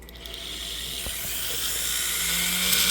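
Rotary tool fitted with a silicone polishing wheel working on a ring, a steady high whine that slowly grows louder, close up with no talking.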